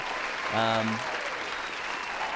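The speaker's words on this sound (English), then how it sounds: "I'm going to give you a second round of applause for that." A crowd claps steadily the whole way through, with a voice calling out briefly over the applause near the start.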